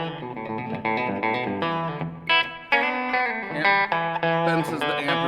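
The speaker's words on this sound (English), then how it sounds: "It almost sounds more like a room reverb than it does a spring." REVV D25 guitar amp with reverb turned all the way up plays chords and single notes that ring out into a roomy wash, loud and continuous with brief pauses between phrases.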